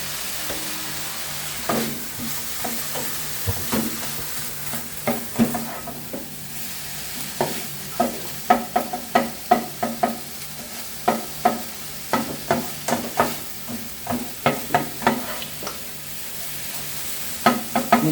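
Paprika, onion and meat stir-frying in a pan, a continuous sizzle broken by frequent sharp scraping and tapping strokes of a utensil that grow denser toward the end, no voices.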